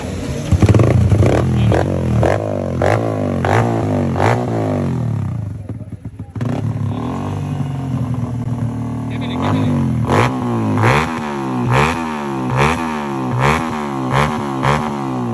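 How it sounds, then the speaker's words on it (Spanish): A Yamaha Crypton FI 200cc motorcycle engine idles with a clattery tick close by, cuts out briefly, then fires up again and revs in repeated rising bursts. "la voy a prender otra vez para que la escuchen bien"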